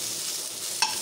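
Cauliflower frying in hot oil in a kadai, a close, steady bubbling sizzle lasting about a second, with one small clink of a utensil near the end.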